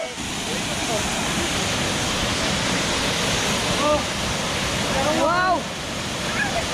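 Waterfall at Katihan Eco Park, a steady broadband rush of falling water filling the whole clip, with people's excited voices and whoops rising over it near the end.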